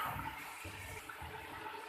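Small spoonfuls of water poured into a pan of spiced masala for a Pakistani chicken, potato and pea pulao, a steady close watery rush and splash lasting throughout with no talk.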